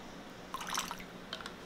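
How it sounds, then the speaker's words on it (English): A splash of vanilla poured into vegan lemon blueberry cake batter, a brief soft trickle and drip of liquid lasting about a second, close and quiet, followed by a faint second drip. "We're also going to put in a splash of vanilla."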